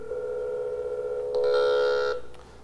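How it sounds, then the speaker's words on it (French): A steady electronic telephone ring tone from a Motorola radio communication system sounds continuously, rising in brightness and loudness partway through before cutting off near the end. "On va entendre la sonnerie."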